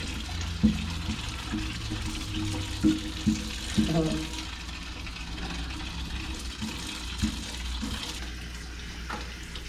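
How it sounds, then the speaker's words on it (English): Tap water runs steadily for hand-washing clothes at a washboard, a constant wash with a few soft knocks and clatters over it and no speech. "Get the water going."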